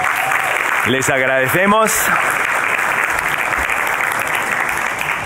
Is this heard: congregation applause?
yes